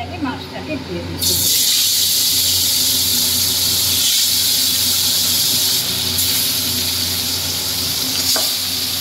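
Pieces of koi fish, rubbed with salt and turmeric, drop one by one into hot oil in an iron kadai, setting off a loud, steady, hissing sizzle that starts abruptly and runs continuously close by.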